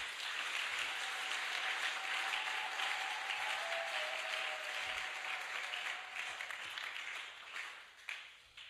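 Sustained applause from a worship congregation after a call to acclaim the king of kings, dense and steady for most of the clip before thinning out near the end.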